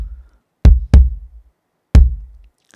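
Roland V-Drums electronic kick pedal stepped in rhythm, giving a quick double thud followed by a single deep kick, each punchy and close with brief decays and quiet gaps, no voices.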